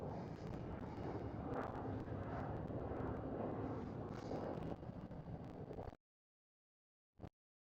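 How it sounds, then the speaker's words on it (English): A KLM Cityhopper airliner takes off at Schiphol, Amsterdam, its broad steady engine roar filling the air under wind buffeting before it cuts out abruptly. "It was a KLM City Opera taking off in the background"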